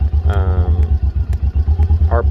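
A 2019 John Deere Gator XUV590M utility vehicle with a rebuilt CVT idles close by in a deep, throbbing pulse while being shifted into reverse, with a brief whirring rise under a voice.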